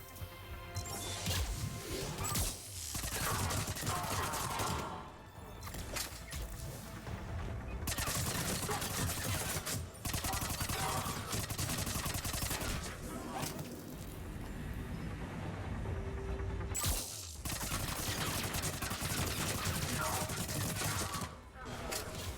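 Dense, continuous gunfire rattles through a Mass Effect 3 battle, with sustained automatic bursts and impacts broken by brief pauses, loud and chaotic throughout.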